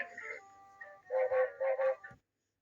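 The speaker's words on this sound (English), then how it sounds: "Henry's whistle sounds like this." Henry the engine's whistle sound effect from a Thomas & Friends game: a soft tonal lead-in, then four short, bright whistle toots in quick succession before it cuts to silence.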